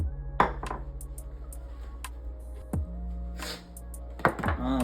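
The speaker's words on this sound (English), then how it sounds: "we're gonna go ahead and get a pan, an oven pan. Got some olive oil. We're gonna go ahead and put that in there." An oven pan is handled and olive oil poured in for ribs, with scattered close metallic clanks and taps of the pan and bottle over a low hum, including a few louder knocks.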